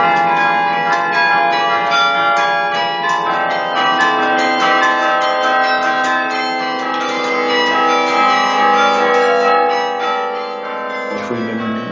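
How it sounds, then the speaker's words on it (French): Carillon bells in a belfry, struck hard from a fist-played keyboard so even the heaviest bells sound: a dense, continuous ringing cascade of overlapping bright tones, loud and sustained without pause. "Stefano joue avec les poings pour être sûr de faire sonner toutes les cloches, y compris les plus lourdes."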